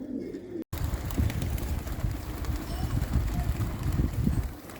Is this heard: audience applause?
no